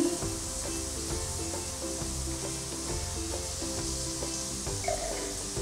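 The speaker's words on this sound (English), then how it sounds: "now we just simply add a big knob of butter and some delicious honey" Butter and honey sizzle in a heavy-based pan on a stove, a steady bright hiss that runs the whole time beneath a layer of tonal background music.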